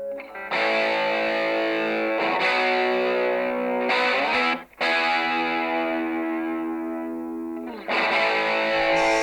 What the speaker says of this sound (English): you can hear that there's a little delay going on, a little rounding off in the chorusing